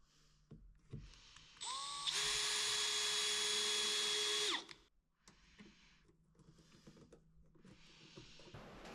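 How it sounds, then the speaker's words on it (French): A power drill drives screws fastening wooden strips to a wooden box, with a loud high-pitched motor whine lasting a couple of seconds, then quieter handling and shop noise nearby. "puis je les ai vissées au caisson."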